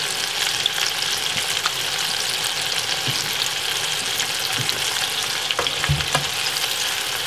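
Shrimp fry in hot oil, seasoned with Jamaican valley spice, giving a steady close sizzle and crackle that runs the whole time, with a few soft stirring knocks and scrapes. No one speaks.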